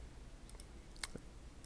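A few sharp, quiet computer mouse clicks, spaced irregularly, sit in an otherwise hushed room with no talking.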